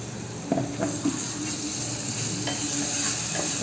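Ginger onion paste frying in hot oil, a continuous moderate sizzle with a few soft knocks of a utensil against the pan early on, brief and without speech.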